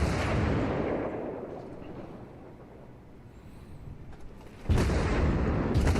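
Heavy naval cannon fire from warships in World of Warships, with a loud rumbling blast that fades slowly, then a second abrupt, powerful boom near the end.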